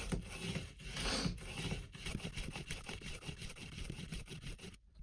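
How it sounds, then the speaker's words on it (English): Rotary cutter blade being sharpened on a blade sharpener, a steady close scraping and rubbing rasp with rhythmic strokes that runs continuously and then stops abruptly near the end, with no talking. "I'm gonna sharpen my blade on this."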